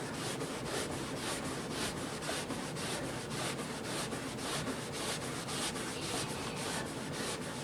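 A cloth works rubbing compound over a surface to give it a final polish, making steady, rhythmic back-and-forth rubbing strokes up close at an even, continuous level with no talking.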